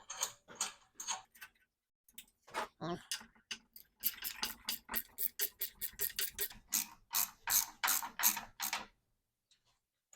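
A hand ratchet snugs down the mounting bolts of a Quake light bar on a Ford Bronco, giving quick, close, crisp clicking strokes in irregular bursts with short pauses between them.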